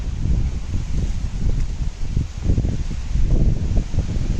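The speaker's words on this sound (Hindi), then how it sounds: "काफ़ी हवा चल रही है। हवा की आवाज़ भी आई थिंक आपको आती रहेगी।" Strong wind gusting steadily through trees in a temple garden, a loud, continuous roar and rustle with rising and falling surges and no talking.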